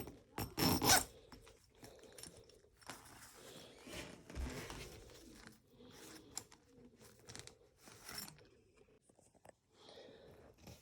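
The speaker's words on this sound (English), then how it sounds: "we're going to zip it up and I'll show you" Zipper on a Cubby dog bed being drawn closed in short, uneven rasping pulls with a few snags and pauses, close and fairly quiet, with handling noise between pulls.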